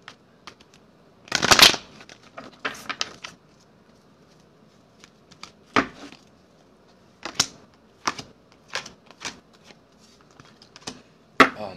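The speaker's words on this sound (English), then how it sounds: "I need to stop shuffling these cards like I'm in a casino." Cards being shuffled in short crisp riffled bursts, a long burst early on and then several brief sharp flurries separated by quiet pauses, close and clear.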